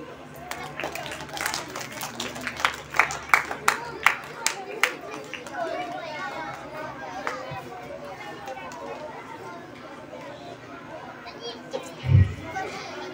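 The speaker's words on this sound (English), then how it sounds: "Clap for him" A school audience at a junior storytelling competition claps in a burst of scattered, uneven claps over the first few seconds, fading into chatter, children's voices and footsteps in a roomy hall.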